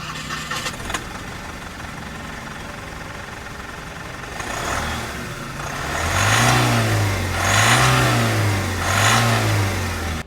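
A Mahindra Supro Maxi Truck's 909 cc diesel engine cranks and catches, then runs in a low rumble and is revved three times in a slow rising and falling rhythm, close and fairly loud, with no speech.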